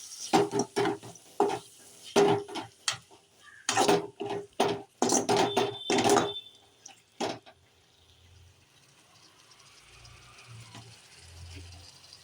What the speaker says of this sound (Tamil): தக்காளி ஆட் பண்ணோடனே இதெல்லாம் நல்லா மிக்ஸ் பண்ணி விட்டுக்கலாம்